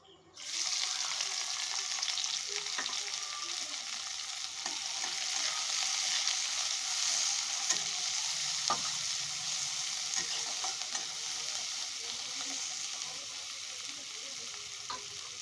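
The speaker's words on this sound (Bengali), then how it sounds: "দেখুন পেঁয়াজটা ভালো করে ভাজা হয়ে গেছে লাল করে" Sliced onions frying in hot oil and stirred in a pan, with a steady bright sizzle rising at once and continuing close and even, with occasional scrapes of the stirring spoon.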